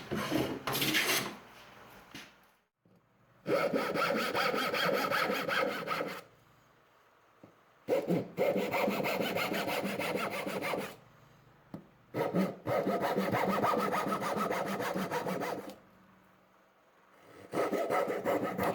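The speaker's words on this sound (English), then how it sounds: "Here's some more saw work shots for you." A hand saw cuts a two-foot piece of inch-thick mahogany clamped in a vise, with close, steady rasping strokes in three or four long bursts separated by short pauses.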